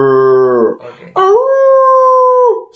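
A drawn-out wolf howl, loud and close, holding a steady pitch before breaking off briefly and rising into a second long sustained howl with no other sounds.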